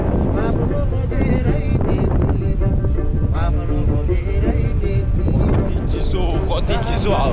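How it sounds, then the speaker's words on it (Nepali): Cold wind blows hard across a mountain road on the way to Manang, a constant loud roar buffeting the microphone while people talk over it. "कति चिसो हावा चलेको"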